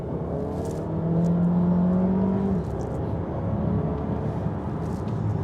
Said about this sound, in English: I'm not the best when it comes to doing 0 to 100 tests, but that was pretty quick